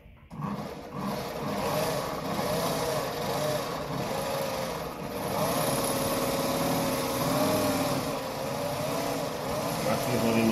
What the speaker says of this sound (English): you put that on the bobbin winder and you push this to touch the wheel